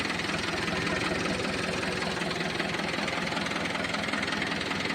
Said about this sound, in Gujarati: એન્જિન પાવરફુલ છે